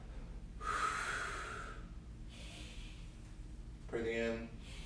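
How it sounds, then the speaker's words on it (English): Slow, deep breathing during a mobility and stretching routine: a long audible inhale, a softer exhale, then another sharp breath, close to the microphone. "as I breathe in, breathe out."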